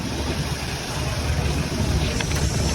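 A delivery truck's engine running close by, a steady loud rumble with broadband road and wind noise and no break across the short stretch.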